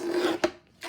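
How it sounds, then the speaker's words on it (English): A collage paper trimmer slicing through a sheet of collage paper, heard as a close, steady rasping cut of under half a second, then a sharp snap as the blade finishes and a softer rustle after a brief pause. "So I will use my Collage trimmer for this and see how this looks."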